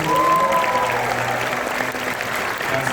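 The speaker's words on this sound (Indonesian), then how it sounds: "tepuk tangan dulu untuk Pak Ganjar semua." A conference audience at an Indonesian festival event applauds a government minister, a dense, steady wash of clapping that stays loud throughout, with a faint murmur of voices beneath.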